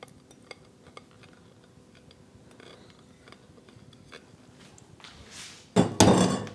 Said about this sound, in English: now adding the wet ingredients to the dry ingredients